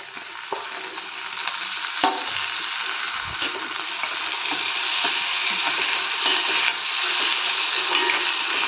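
Finely chopped tomatoes fry in a pan with browned onions for an egg gravy, giving a steady, close sizzle with occasional stirring scrapes and no talking.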